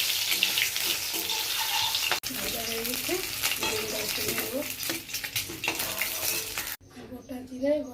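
An egg fries in oil in a wok (kadai), a steady close sizzle and crackle that runs throughout, briefly cut off twice, with someone talking over it.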